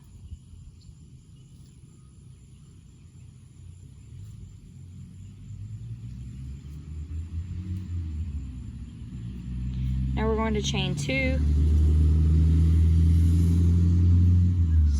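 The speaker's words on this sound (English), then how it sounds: "Sorry about the traffic noise." Road traffic rumbles past outside with a steady low drone that swells louder toward the end as vehicles go by, while someone talks through a crochet tutorial.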